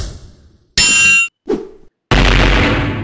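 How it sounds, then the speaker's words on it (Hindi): A telephone pole struck and broken, a sharp metallic clang ringing out, then a shorter thud-like hit and a loud crashing burst that trails off. "इसने टेलीफोन का खंबा ही तोड़ दिया।"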